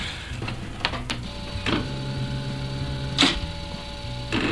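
A faulty Coleco Adam computer drive makes a mechanical whirring hum throughout, punctuated by several sharp clicks and whooshing seeks, fairly close and with no voices.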